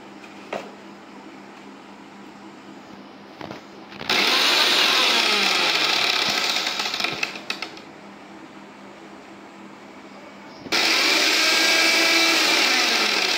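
Vision Cyclone Pro 4-in-1 electric blender running in two loud bursts of high-pitched motor whine, separated by a quieter stretch of low hum, with faint background noise and no clear talking.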